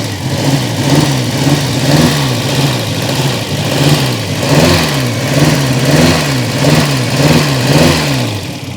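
A Peugeot 405 GRX4 engine runs rough from a carburetor fault, its revs surging and dipping in a steady rhythmic hunt, loud and close, with no talking.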